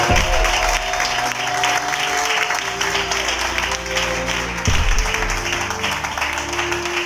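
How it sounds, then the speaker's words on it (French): A church congregation applauds loudly and steadily for several seconds, a dense wash of many hands clapping together, with a sustained organ or keyboard chord beneath. "Est-ce qu'on peut acclamer pour cette parole bien aimée?"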